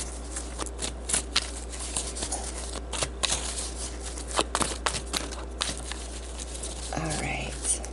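Oracle cards shuffle and riffle close by in soft, papery bursts under a low steady hum, with a quiet whispering voice.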